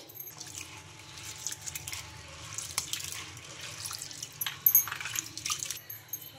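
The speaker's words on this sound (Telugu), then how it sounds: "ఇవి కూడా ఇంకా 2 సార్లు శుభ్రంగా కడిగేసుకొని వాటర్ అయితే వంపేసుకొని" Soft swishing and splashing of water as soaked green gram is rinsed by hand in a bowl, with gentle irregular sloshes.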